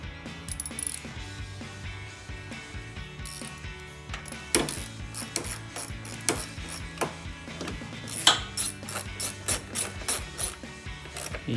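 Ratchet clicking steadily as 10mm bolts are snugged on a Jeep Gladiator headlight, with intermittent metallic ticks and clacks at close range and no talk.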